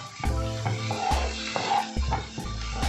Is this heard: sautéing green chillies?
yes